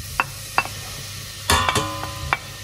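Garlic and onion drop into hot olive oil in a pan, giving brief crackling sizzles and a few sharp spits over a low, steady frying hiss, close and with no talking.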